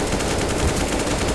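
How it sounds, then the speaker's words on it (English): Sustained automatic gunfire in a competitive Counter-Strike match, a loud, dense rapid burst of overlapping shots that fills the whole moment without letup and without any talking. "A lot of bullets being shot"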